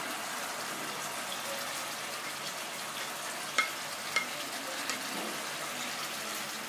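Fried capsicum and paneer stirred into a sizzling kadai paneer masala, a steady close frying hiss with a couple of faint spoon taps midway.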